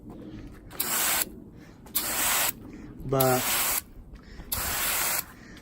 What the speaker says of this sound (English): I'm gonna go ahead and spray this